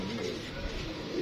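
A langota (feather-footed) pigeon coos in soft, low, steady murmurs over a continuous background hiss, close and fairly quiet throughout.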